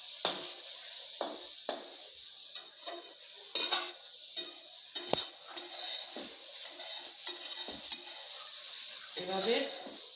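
Chicken and spices stirred in a pan, a spoon scraping and clinking against the metal in irregular taps and scrapes, fairly quiet, with a soft background hum.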